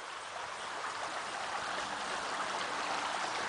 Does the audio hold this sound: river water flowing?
yes